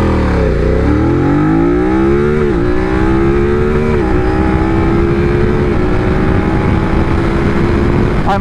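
A 2024 BMW F900R motorcycle engine revs up through rising pitches, dipping briefly at each gear change before climbing again, loud and close amid steady wind noise.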